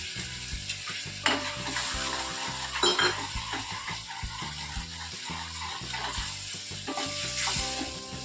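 Ground tomatoes and chilies fry in a pan for a cauliflower curry, a steady sizzle under an ongoing melodic background tune, with a few clinks of a utensil against the pan.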